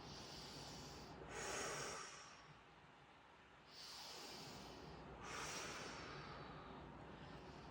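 Three forceful breaths pushed through the nose during a fascial exercise, each a loud rushing hiss of air, spaced a couple of seconds apart over a steady background.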